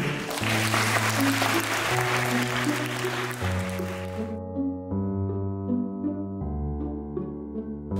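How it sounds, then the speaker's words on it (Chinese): An audience at a charity anniversary tea party claps warmly for a chamber orchestra from Kaohsiung. The applause fills the first half and then fades as the ensemble begins playing sustained notes. "掌声欢迎"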